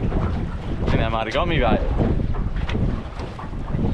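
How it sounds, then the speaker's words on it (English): Strong wind buffets the microphone on a small boat at sea off Busselton, near a reef dive site, making loud gusting rumbles with waves around. Someone speaks briefly over the wind. "The wind is fairly hooking today."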